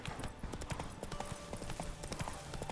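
Horse hooves clip-clopping steadily in The Witcher 3, a brisk regular trotting rhythm heard fairly close and quiet, with a faint tonal hum underneath.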